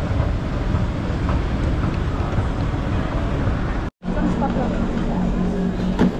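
A Singapore MRT train rides toward Fort Canning with a dense, steady rumble of wheels and cabin noise. The noise breaks off briefly before resuming, and a faint tonal hum appears near the end.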